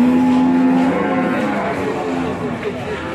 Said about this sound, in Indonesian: Ini sapi tertinggi ini.